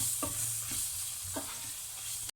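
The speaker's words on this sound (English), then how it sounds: "Kids, remember to keep on stirring the pot so that it doesn't" Spices and onion roast in a pan for lamb curry, a steady close sizzle broken by a few scraping stir strokes from a spoon across the pan.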